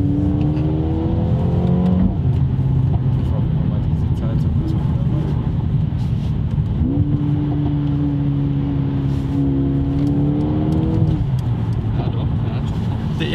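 Mercedes-AMG A35 accelerating hard from inside the cabin, a steady loud engine drone that climbs in pitch, drops at a gear change, then climbs again, with people talking over it throughout.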